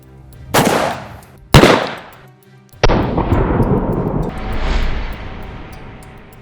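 Taurus Raging Judge Magnum revolver firing a Hornady Critical Defense 410 shotgun shell, loud sharp gunshots outdoors with echoing decay, followed by a longer rumbling sustained noise.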